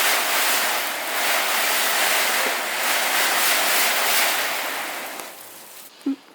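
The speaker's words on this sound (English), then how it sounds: "so we're going to soft wash this now, we're going to apply the treatment" Steady broadband hiss of low-pressure soft-wash spraying of mould-killing cleaning solution onto an exterior surface, continuous and fairly loud, tapering off near the end.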